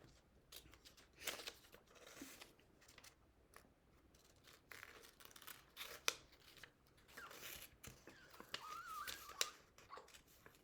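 Scissors cutting paper, a series of quiet crisp snips and rustles in an irregular rhythm, close but faint, with paper handling between cuts.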